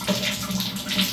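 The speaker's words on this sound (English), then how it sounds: "And then open the water valve," Water rushing steadily through the pipes after the valve is opened during a gas water heater installation, a brief, close, continuous hiss.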